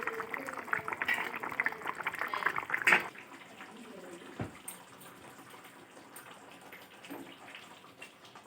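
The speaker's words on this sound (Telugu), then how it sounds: "కూర కాసేపు ఇంకొక 5 నిమిషాలు ఉడకబెట్టుకోవాలి" Chintapandu-style curry, a tamarind stew of chidumulu, simmers in a pot with a soft, steady bubbling hiss, brief clatters near the start, then quieter low boiling under faint kitchen noise.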